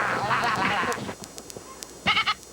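Fainting goats on a farm let out a few short, nasal bleats close by, coming after a stretch of people talking and some scattered clicks and knocks.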